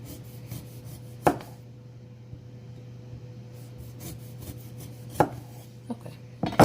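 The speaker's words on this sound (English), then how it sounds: "I'm going to cut a couple lime slices off for presentation" A knife cuts slices from a small lime on a cutting board, producing a handful of sharp, distinct chops spaced irregularly over a quiet kitchen background hum.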